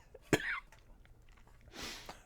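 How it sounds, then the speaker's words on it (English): A person coughs from dust while restoring an old Macintosh SE/30 computer, giving one sharp, close cough followed by a breathy exhale, with no speech. "So I'm coughing from the dust."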